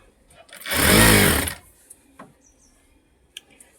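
A Jack sewing machine stitches blouse fabric in one loud, close whirring run of about a second, followed by faint clicks and handling sounds.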